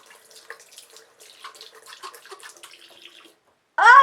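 A makeup brush rinsed under running tap water, with soft uneven splashing and dabbing for a few seconds, a brief pause, then a sudden loud steady rush of water near the end.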